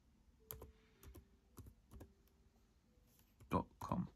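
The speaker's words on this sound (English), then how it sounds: "here on the search bar I could type up spotify.com" Key presses on a school Chromebook keyboard while typing a web address, with scattered close, crisp clicks at an irregular pace and a louder cluster near the end, against a quiet room.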